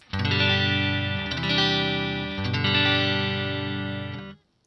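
Electric guitar played through a NUX Twin Reverb amp model, strummed chords ringing with shimmering effects, three sustained strums that fade out at the end, heard alone with no talk.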